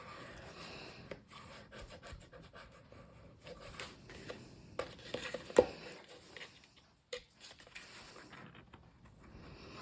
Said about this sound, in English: I'm going to use my Teflon bone folder here to make sure the front panel is glued on